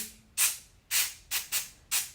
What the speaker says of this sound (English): Spray some Teflon.